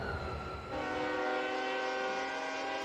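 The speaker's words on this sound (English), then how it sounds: "Oh, it even has a train whistle." In the city-building game Cities: Skylines, a train whistle sounds as a sustained, steady horn blast over a low rumble of rail traffic, moderately close and with no talk.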